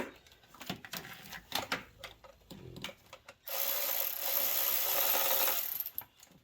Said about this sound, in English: I'm gonna go ahead and tighten up 2 bolts here.